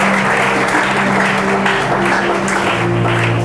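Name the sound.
congregation applauding and cheering the Lord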